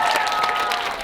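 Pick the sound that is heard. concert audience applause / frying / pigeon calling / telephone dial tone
concert audience applause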